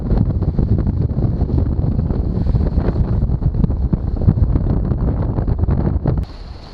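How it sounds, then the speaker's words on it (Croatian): Stormy jugo wind roars over the open sea, a loud continuous buffeting gust battering the microphone with rushing water beneath, easing abruptly near the end. "Olujni vjetar u ovom smjeru"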